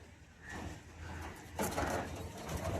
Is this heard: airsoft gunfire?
no